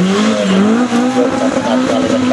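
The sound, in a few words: Porsche 911 SC racing on track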